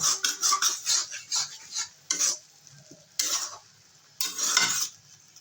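A sour spinach and fish sauce simmers down on a low gas flame as it is stirred in short scraping bursts, separated by quiet pauses, with metal utensil clinks against the pan.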